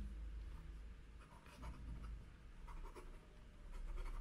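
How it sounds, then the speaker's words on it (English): A Ranga bamboo pen scratches across paper in reverse strokes, a faint, close, uneven sequence of soft scrapes and taps with no talking. "And let me just go for some reverse writing now."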